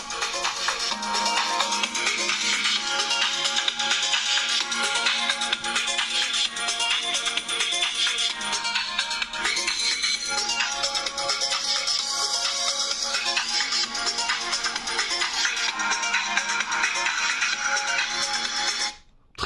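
Music plays from the small stereo speakers of a Realme GT smartphone, bright and loud, continuing steadily for the whole stretch before cutting off at the end.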